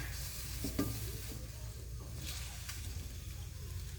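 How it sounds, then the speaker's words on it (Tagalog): Chicken feet being sautéed in a pan, a soft continuous sizzle with faint stirring scrapes over a low background hum, close but quiet. "Gisahin na muna."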